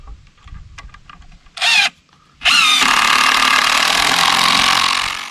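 A power drill fitted with a masonry bit bores through wood on a homestead house build: a short whining burst, a pause, then a loud sustained close-up drilling whine to the end.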